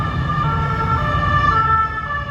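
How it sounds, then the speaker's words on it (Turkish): A loud ambulance siren in Paris, near the Champs-Élysées, blares continuously, close by, over a low rumble of road traffic. "Bizim ülkedeki ambulans siren seslerine göre çok yüksek bir sesi var"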